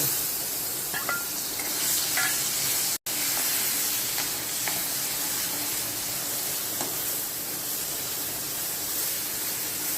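Green chillies frying in a pan, a continuous soft sizzle and hiss with occasional faint stir clicks, steady and close without talk.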